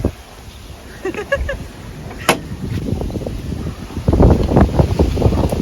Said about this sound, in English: It's really windy, isn't it?